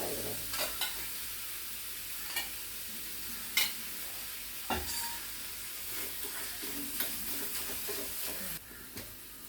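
Poha roll mixture sautéing in a pan, a low steady sizzle broken by occasional spoon scrapes and taps, quiet and close with no talking.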